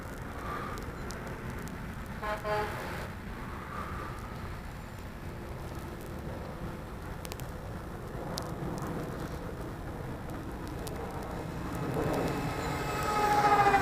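A Dynam TurboJet RC model jet makes a mid-throttle fly-by pass, a steady distant airy whoosh with slight fan warble that swells louder toward the end.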